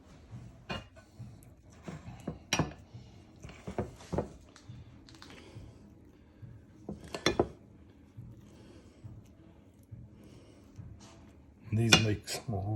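Bacon-wrapped jalapeno poppers being set down in a metal pan, with scattered clinks, taps and soft handling knocks in irregular bursts, close and moderately quiet, ending in a louder clatter.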